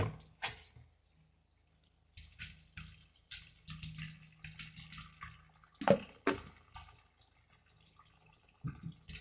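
Food is washed by hand in salted water, with intermittent splashes, swishes and drips coming in uneven bursts and short pauses, fairly close and quiet.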